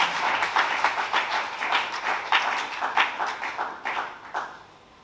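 A church conference audience applauds together, a dense wash of clapping with steady rhythmic pulses, full and close, fading toward the end with no talking.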